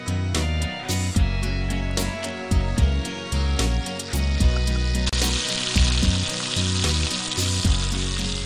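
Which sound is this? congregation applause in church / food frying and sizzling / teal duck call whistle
food frying and sizzling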